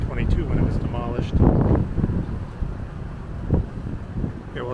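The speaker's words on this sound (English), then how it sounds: "Sorry about the wind here" Gusty wind buffets the microphone on a city street along Boston's School Street and Province Street, a steady low rumble with louder surges, close and rough throughout.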